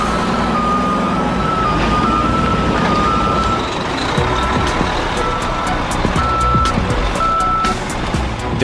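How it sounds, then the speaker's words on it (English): Big rig garbage trucks arrive at a landfill, with diesel engines rumbling. A loud, steady reversing beeper repeats in regular pulses throughout. "hundreds of massive big rigs arrive to drop off their"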